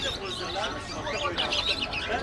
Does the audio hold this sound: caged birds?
yes